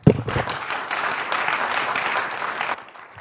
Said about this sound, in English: a welcome round of applause for Dr. April Alcazar